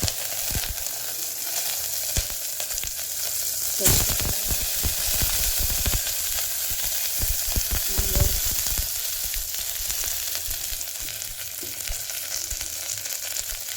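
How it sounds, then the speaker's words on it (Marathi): Steady loud sizzling of finely chopped onion sautéing in hot oil in a pressure cooker, a continuous crackling hiss with occasional stirring scrapes, no voices. "कांदा बारीक कापलेला आहे त्याला परतून घेऊया"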